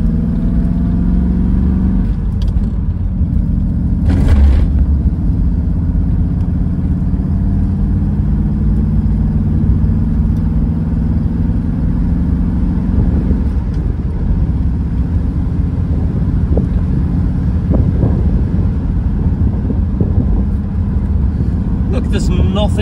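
Triumph Stag car engine while driving on quiet open roads, a steady low drone with occasional revving, loud and continuous throughout, with a person talking over it at times.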